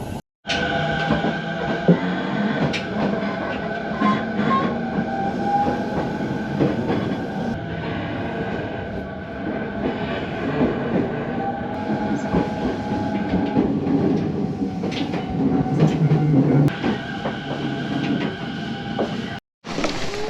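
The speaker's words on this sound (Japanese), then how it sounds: "こちら東金線鳴門行きがやってまいりましたので、こちらの電車に乗車したいと思います" A Togane Line commuter train rumbles into a station in Chiba, Japan, steady wheel noise and rhythmic clatter over rails, with brake squeals and hums, close and continuous.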